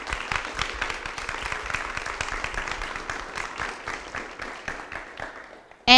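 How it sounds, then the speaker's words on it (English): Audience applause at a pitch contest event: dense, sustained clapping from a crowd at steady loudness for several seconds, tapering slightly before an abrupt louder sound at the very end. "let's have a round of applause and thank them very much"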